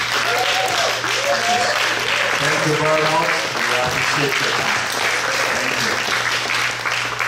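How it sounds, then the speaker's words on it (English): An audience at an entrepreneurship event claps steadily throughout, a dense even patter of many hands under someone speaking briefly near the start and a constant low electrical hum. "Can we just rise again and give a round of applause to"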